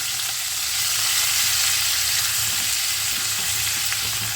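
Fenugreek seeds tempering in hot oil sizzle and crackle as chopped bottle gourd goes into the pan for a Bengali lau bori jhol, a loud steady frying hiss close by with no speech.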